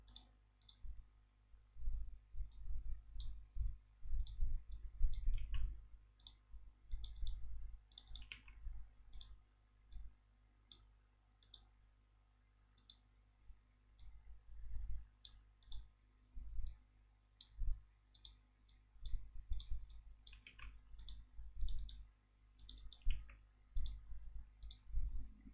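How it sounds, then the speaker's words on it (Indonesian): A computer mouse clicking in SmartPLS statistical software, including double-clicks on model elements: sharp, light, close clicks, often in pairs, scattered irregularly over a low background hum with no speech. "kita tinggal double klik saja di bulatan yang oranye ini, double klik"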